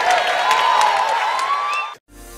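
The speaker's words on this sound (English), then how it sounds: "come on, ladies, clap a little bit for me." A lecture audience claps and cheers loudly and continuously for about two seconds, then the sound cuts off abruptly.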